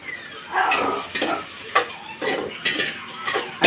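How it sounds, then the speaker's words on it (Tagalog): Large prawns are stirred in a frying pan for a breakfast dish, a utensil scraping and clinking against the pan in quick repeated strokes over a soft, steady sizzle. "Tapos sa halo-haloin ng bahagya, hanggang sa madurog yung ano, sugpo."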